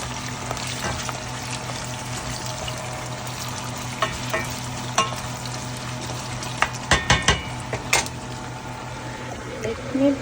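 Pre-boiled potatoes fry in a pan with a steady low sizzle, broken by a few sharp clinks and stirring scrapes near the end; no one speaks.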